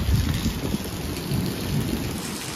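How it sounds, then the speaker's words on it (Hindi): Heavy rain pours in a dense, steady hiss while low rumbles of thunder roll underneath, close and continuous with no voices. "सो गाइस बारिश हो रही है बहुत।"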